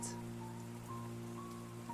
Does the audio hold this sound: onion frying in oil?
no